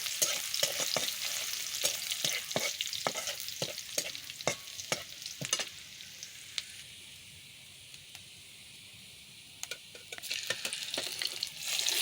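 Chopped garlic sizzles in a pan while a utensil stirs it, sharp scraping clicks repeating in quick rhythm over a bright frying hiss that fades quieter in the middle before the stirring returns.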